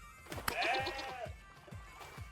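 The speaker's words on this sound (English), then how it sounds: "Goat herding." Goats being herded bleat close by, one long wavering bleat followed by shorter calls, with low thuds and rustling around them.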